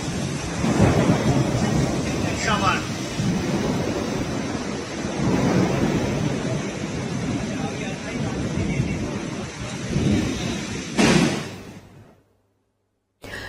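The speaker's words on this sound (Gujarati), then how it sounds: "ગ્રામ્ય પંથકમાં ભારે પવન સાથે વરસાદ શરૂ થયો છે" Heavy rain driven by strong wind in a rural Gujarat district, a loud, steady roar with low rumbling surges like thunder and gusts swelling through, continuing almost unbroken before cutting off near the end.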